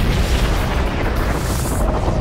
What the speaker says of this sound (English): The powerful blasts would do more than kill any living beings in their path.